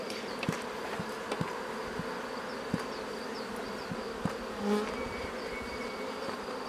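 A steady, close drone of many honeybees fills an open hive between the frames, with scattered soft taps and clicks and no voices.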